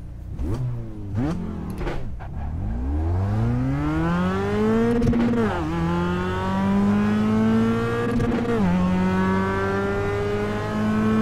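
A Mazda race car engine in the iRacing sim game revs and climbs in pitch repeatedly, with gear-shift drops, steady and loud throughout with no talking.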